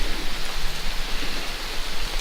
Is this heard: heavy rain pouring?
yes